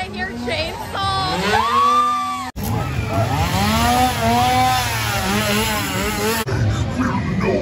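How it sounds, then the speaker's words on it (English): A chainsaw engine revs up and down loudly at close range at a Halloween horror theme park event, its pitch rising and falling, with crowd noise and shouting behind it. "And I hear chainsaw."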